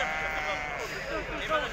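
Sheep bleat with a wavering, nasal call amid the busy din of a Tuesday livestock market in Azrou, Morocco, with voices murmuring close by.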